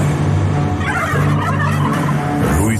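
A turkey gobbles loudly and continuously in a radio drama, a dense rattling warble over a steady low hum, close and prominent with no voices.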